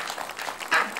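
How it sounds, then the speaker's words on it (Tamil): A children's fun show audience gives a short burst of clapping, a quick patter of hands at moderate distance that swells briefly near the end. "பெரிய கைத்தட்டல் கொடுக்கலாங்க"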